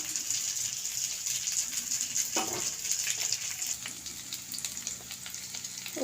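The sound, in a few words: sizzling fish sour curry with tamarind, gourd and potato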